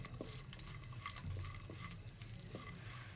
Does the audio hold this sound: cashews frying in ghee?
yes